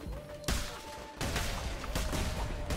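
Video game explosions in Cult of the Lamb come as a few sharp blasts at a steady pace over a constant backdrop of game music and effects.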